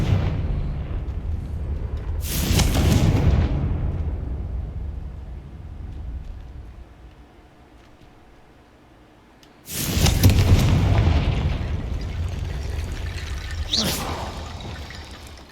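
Two booming blasts from the Confringo spell in Hogwarts Legacy, each a sudden loud burst trailing into a long rumbling decay, separated by several seconds of quieter ambience.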